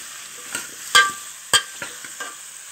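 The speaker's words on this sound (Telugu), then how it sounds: "వేసి కలుపుకోవాలి." Spices being stirred into vegetable pieces in a hot pan, a few sharp scraping strokes of a spoon over a soft, steady sizzle, close and clear.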